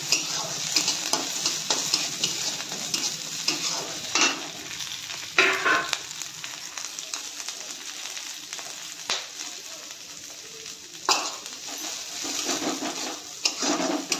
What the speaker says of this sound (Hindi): काटी रखिया कंचा लंका अदा रसुण को पकई दबा।